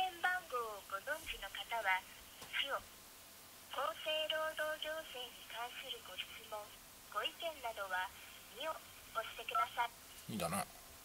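A telephone call to a government ministry hotline connects through the line, with a filtered automated voice menu in Japanese and beeping tones coming through the handset, followed by a sharp closing tone.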